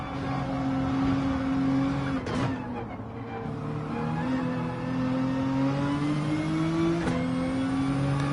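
A race car in Gran Turismo 7 driven hard, its engine whining steadily with pitch dips and climbs through gear shifts, loud and continuous.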